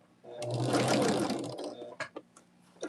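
A sewing machine stitches quilt block seams in a close, steady mechanical whir that runs for about a second and a half, then gives way to a few short bursts and clicks.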